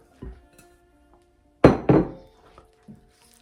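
A utensil mixes dry ingredients into wet batter in a bowl for a gluten-free cinnamon quick bread, giving a few hard knocks and clunks against the bowl amid near silence.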